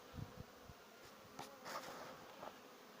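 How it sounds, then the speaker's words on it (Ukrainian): A steady, close hum of many honey bees buzzing at a hive entrance, with individual insects droning past now and then, no voices. "Ось так бджоли сунуться через цей льоток"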